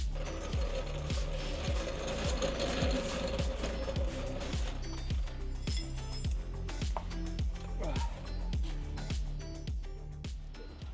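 Ratchet wrench clicking in a workshop while working on a 2011 Infiniti QX56 suspension, with steady repeated ratcheting strokes and metallic clinks over a busy background hum, fairly close and continuous.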